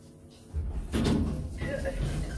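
An Otis 2000H elevator built in 1998 opens its doors, a soft mechanical clunk followed by a sliding rumble and faint chime-like tones, close and moderate in level, with someone speaking over it.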